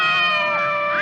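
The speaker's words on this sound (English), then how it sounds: "How many cats do you have here, miss?" A house cat in a home full of cats gives a short, loud, close meow with a rising and falling tone, heard alone.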